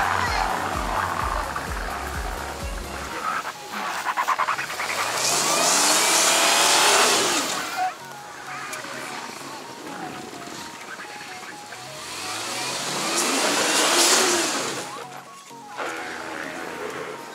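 An off-road vehicle such as a Niva, UAZ, Toyota Hilux or Land Cruiser revs its engine repeatedly while approaching on a snow-dusted sandy competition course, growing louder in waves with rising whines, with faint voices in the background.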